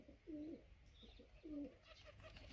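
Pigeons on a rooftop loft coo as they feed on grain, two low throaty coos spaced about a second apart, close and fairly soft, with faint chirps and light rustling between them.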